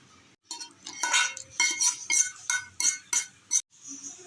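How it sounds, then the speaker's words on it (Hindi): A metal spoon stirs vermicelli and milk for sheer khurma, giving a run of sharp, close clinks and scrapes against the pot in an uneven rhythm, with no voices. "उसके बाद आपने चम्मच चला लेनी है इस तरीके से, पूरी ये मिक्स कर लेनी है"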